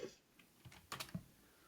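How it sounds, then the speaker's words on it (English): Typing on a computer keyboard, a few quiet clicking keystrokes in a short irregular burst, faint and close. "Are you actually like typing in or Googling or like chat GPTing?"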